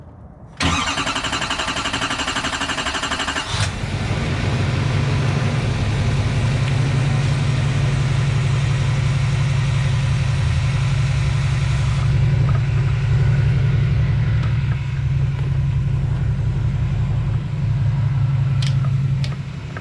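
An L5P Duramax diesel pickup truck cranks with a high whining starter and fuel pump, fires up and settles into a loud, steady rumbling idle with a ticking diesel clatter, close and continuous.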